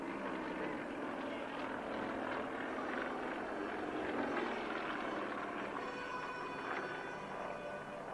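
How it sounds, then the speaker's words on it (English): Yak 52 aerobatic aircraft with Russian M14P radial engines performing at a Wings Over The Illawarra 2019 airshow, giving a steady, loud droning engine roar that swells slightly mid-pass with no talk over it. "All these engines, all these aircraft are the same engines as the Russian M14P"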